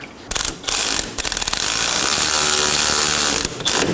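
A ratchet snugs down the rear sway bar end link bolts on a 2018-2024 Chevrolet Equinox, giving a loud, close, rapid clicking. Short bursts of clicking give way to a longer, continuous stretch of ratcheting.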